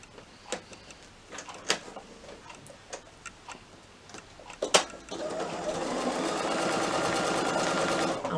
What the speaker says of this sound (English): what I need to do is stitch that raw edge onto the top of the wallet there